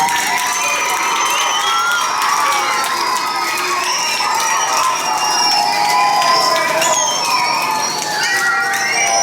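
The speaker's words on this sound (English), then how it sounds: "I want you to give yourself another round of applause for that." A school crowd of students cheers and shouts for repeat champions, a loud, continuous roar of voices and whoops that fills the whole stretch, with only scattered applause mixed in.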